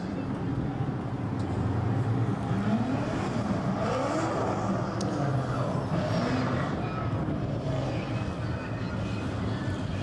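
Corvette drift cars battling at Irwindale Speedway, a steady engine roar with rising revs and tire noise, continuous and fairly distant, with a crowd or commentary murmur underneath.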